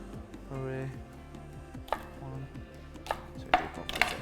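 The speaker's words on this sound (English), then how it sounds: "chop the very ends off like that" A knife chops the ends off a vegetable on a cutting board while preparing a red cabbage slaw. Several sharp, separate chops land near the end under a person talking.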